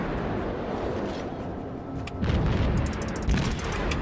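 Enemy warship guns fire on the player's Karlsruhe cruiser in World of Warships, with deep rumbling booms over a constant low engine and sea drone, and heavier blasts landing partway through.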